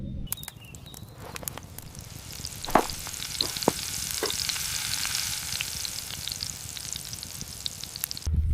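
Bacon sizzles and spits steadily in a pan over a campfire outdoors, a continuous frying hiss dotted with sharp pops and crackles, with no talking.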